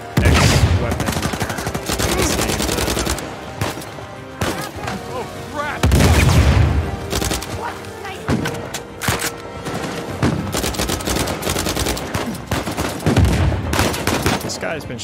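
Gunfire rattles through a firefight in Uncharted 4, with repeated loud bursts of automatic fire and single shots, close and intense, over a dense game soundscape.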